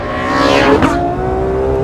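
A Ferrari race car accelerating at wide-open throttle out of a corner on track, its engine note climbing loud and close in a rising howl, with a brief sharper burst midway and no talk.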